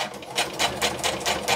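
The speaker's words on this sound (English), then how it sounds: "I'm not sure if you can hear me at all while this is going, the sewing machine." A sewing machine runs steadily, its needle clattering in a fast, even rhythm of short rapid bursts, close and fairly quiet with no talk over it.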